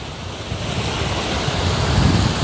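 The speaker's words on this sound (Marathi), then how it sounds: "हे जे पाणलोट होत आहे हे संपूर्ण शेतामध्ये पुढे जाते आहे." Rainwater flooding across a maize field, a loud continuous rush and roar of running water mixed with wind noise, with no voices.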